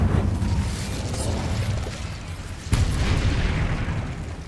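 An Incendio fire spell in Hogwarts Legacy: a loud rushing, booming blast of flame that roars continuously, punctuated by a sharp impact midway and then continuing to rumble.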